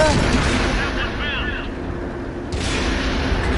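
A tank cannon firing in the video game World of Tanks, heard as heavy booming blasts with rumbling decay and game sound effects, while a voice talks over the action.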